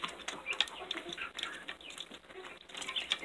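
Light Brahma chickens on a backyard flock, faint clucks and soft bird calls scattered at a distance, quiet and intermittent with no talking.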